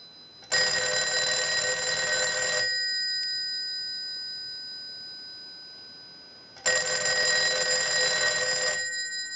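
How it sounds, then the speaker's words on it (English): A Western Electric 302 rotary desk telephone bell rings in two loud bursts of about two seconds each, separated by several seconds of quiet. "send a ring cycle like you were getting a call"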